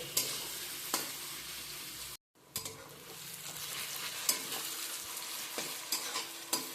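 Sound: onions frying and sizzling in oil on high flame

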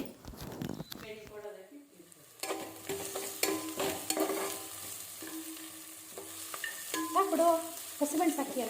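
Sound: tomatoes added to sizzling ginger garlic paste in a pan

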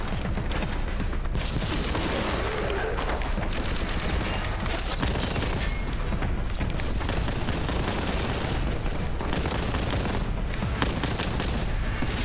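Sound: gunfire in the video game Boltgun

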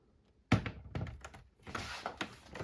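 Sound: PS4 Pro console cover being removed

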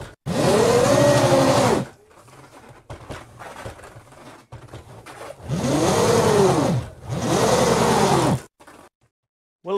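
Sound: electric motor of XXL LEGO go-kart winding up

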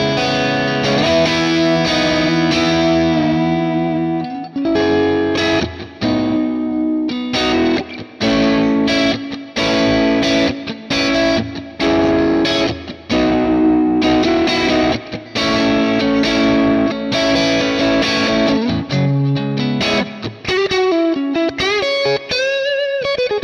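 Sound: guitar with hall reverb effect

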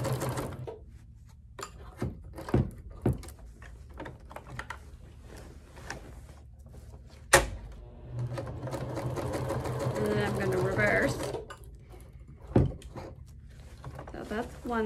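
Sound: sewing machine stitching Velcro on a placemat tote bag

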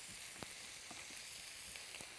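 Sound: ground chuck beef browning in a pan

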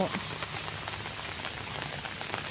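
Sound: rain falling

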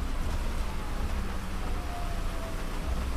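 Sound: rain falling in video game FiveM

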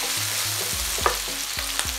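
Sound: anchovies frying while being stirred in a pan

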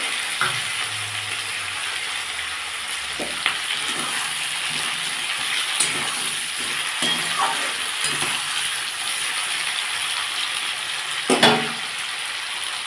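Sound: frying potato and capsicum with garlic paste

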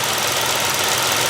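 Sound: 2017 Chevrolet Spark engine idling

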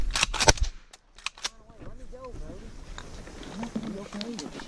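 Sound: shotgun shots while teal duck hunting

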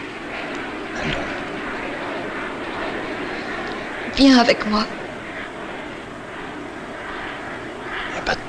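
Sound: airplane engine of departing plane

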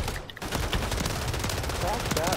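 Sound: Uzi pistol gunfire in a video game

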